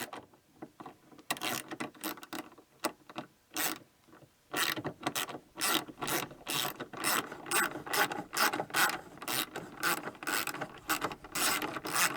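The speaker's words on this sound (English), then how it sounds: "Get them both started before we go ahead and snug it down." Ratchet snugging down 10mm tail light bolts on a 2008-2013 Subaru Forester, heard as close, rapid bursts of sharp clicking that grow denser and steadier toward the end, with short pauses between strokes.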